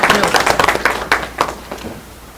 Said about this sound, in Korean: 자, 다 같이 박수 한번.